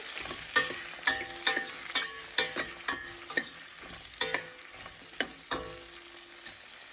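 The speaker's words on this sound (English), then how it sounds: "I took one tomato and we have to fry all these things" Chopped tomato fries in a pan with hotel-style sambar ingredients. A steady sizzle runs under regular, close scraping strokes of a spoon stirring roughly every half second, with no voices.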